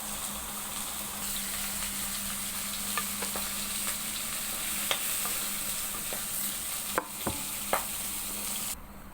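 Pieces of fish sizzle steadily in hot oil in a frying pan, a loud, even hiss with occasional sharp spits and a few crisp clicks near the end.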